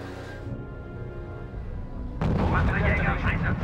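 Artillery and gunfire in the strategy video game R.U.S.E.: a continuous rumbling barrage that swells into a louder, denser burst of blasts partway through, with a voice speaking over it.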